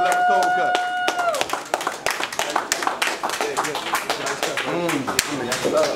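Crowd at a barber battle claps for the winner in sharp, uneven bursts while voices talk and cheer over it nearby.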